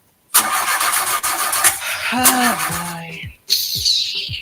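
A broken-down car's engine cranks with a loud whirring starter, sputters and catches briefly, then cuts out before a second cranking attempt begins; voices are heard around it.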